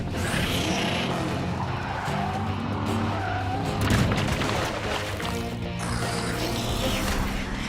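Hot Wheels cars race in a cartoon with a dense, loud wash of roaring engines, squealing tire skids, mechanical clatter and a thudding boom, all sustained without a break.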